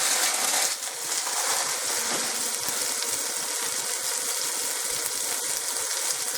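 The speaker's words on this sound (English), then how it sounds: "Hear that sizzle." A pot roast sears in a hot pan, giving a loud, steady, crackling sizzle that continues unbroken up close.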